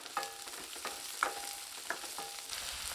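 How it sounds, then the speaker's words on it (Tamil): Green chillies, garlic, curry leaves and shallots sautéing in a pan, a continuous soft sizzle broken by a few sharp stirring clinks, with no talking. "இதையும் சேர்த்து நல்லா வதக்கி விட்டுக்கலாம்."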